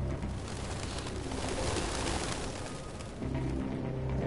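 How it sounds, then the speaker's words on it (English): Pigeons coo steadily in Detroit: Become Human, a continuous soft cooing under a broad, even wash of ambient noise with no talking. "We kind of figured that with all the freaking birds everywhere."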